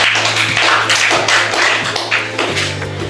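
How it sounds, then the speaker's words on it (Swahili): A group claps as applause for a participant at a youth science challenge, with dense, close, rapid hand claps running throughout and a low hum underneath. "Kama primate. Makofi kwake."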